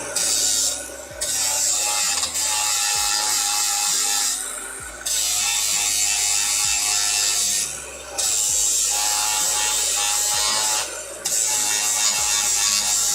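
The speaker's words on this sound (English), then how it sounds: "Yep, it's grinding time." Metal being ground during garage fabrication work on a turbo engine swap, a loud, steady abrasive whine running almost continuously with a few brief pauses between passes.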